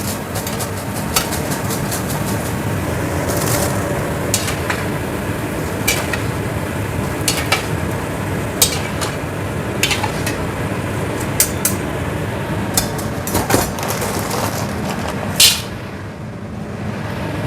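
Continuous crackling sizzle of crackers (kerupuk) frying in hot oil, with frequent sharp pops scattered throughout and no talking.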